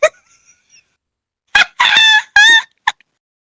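A human voice mimics a seagull cry in a few short, strained, squawking bursts, loud and close, after a brief opening yelp and followed by a quick final squeak.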